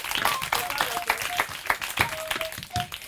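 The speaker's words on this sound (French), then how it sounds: "Applaudissez pour vous-même." Applause from an audience at a storytelling show, steady clapping with distinct individual claps and a few voices calling out beneath it.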